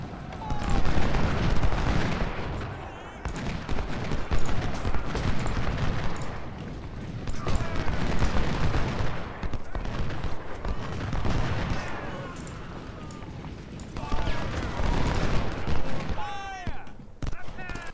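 Musket volleys and artillery booms from the Ultimate General: Civil War video game crackle and thud repeatedly in bursts, with someone talking over the battle sounds throughout.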